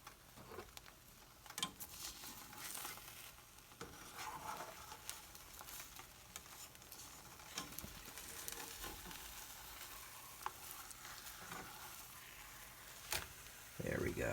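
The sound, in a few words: cheese omelet sizzling in a pan after flipping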